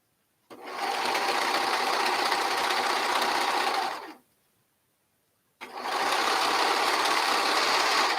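A sewing machine stitches a headband at high speed, making a loud, even mechanical whir that runs for several seconds, stops abruptly, then starts again after a short silence.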